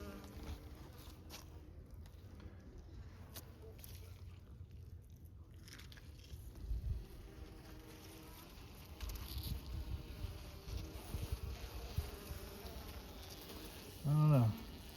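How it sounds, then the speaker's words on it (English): Honey bees buzz around an open hive in late winter, a faint continuous hum with occasional louder passes close by, while a person talks quietly at times and a brief rustle of handling comes at the end. "there's so many bees in here and they've been closed up for so long?"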